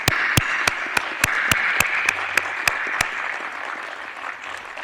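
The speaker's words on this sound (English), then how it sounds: "I would like everybody to give them a round of applause." Steady audience applause fills a prize ceremony hall for the 2024 Gruber Cosmology Prize, a dense wash of clapping with a few sharp, close claps standing out at regular intervals before it slowly thins.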